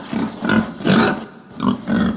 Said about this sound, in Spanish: ¡Es un lindo cerdito!